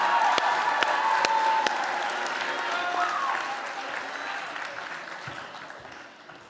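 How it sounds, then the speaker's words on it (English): An audience at a teen youth conference session gives a sustained round of applause, dense and steady at first and slowly thinning out over several seconds, with a few sharper claps standing out. "Give our playable characters a round of applause."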